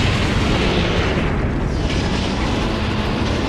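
A missile launcher destroyed in the Reign of Fire video game, a loud continuous explosive roar and rumble filling the whole moment without pause.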